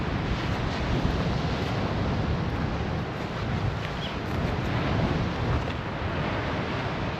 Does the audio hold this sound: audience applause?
no